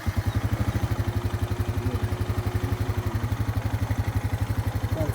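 A 2021 Honda TRX 520 ATV engine idles steadily and close by after an electric start, with a fast, even low thrum and a faint mechanical clatter running throughout.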